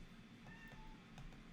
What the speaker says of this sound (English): my cat is meowing at the door.